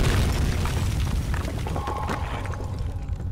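A single explosion in the 2010 PC horror game Amnesia: The Dark Descent: a loud, close boom that fills the low end, then a rumbling, crackling tail that fades slowly with no talk over it.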